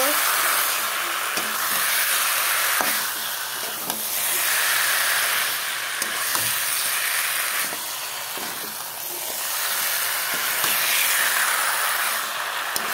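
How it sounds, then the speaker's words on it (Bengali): Chicken frying with spices in a pan for a Bengali chicken dish: a continuous hissing sizzle with some steam and occasional stirring clicks, close and steady. No one speaks. "বন্ধুরা দেখো চিকেনের সাথে সব মশলা একসাথে এখন কষিয়ে নেব।"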